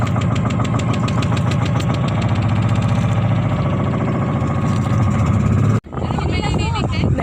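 A boat engine chugs loudly and steadily as the boat departs for Cresta de Gallo, Romblon, Philippines, dipping out for a moment near the end before roaring on, with people talking over it.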